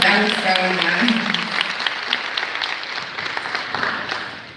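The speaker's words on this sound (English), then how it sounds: "Can we please give Jasmine another round of applause?" Audience applause at a university summer pinning ceremony, a dense wash of clapping that gradually fades, with a voice speaking over the start.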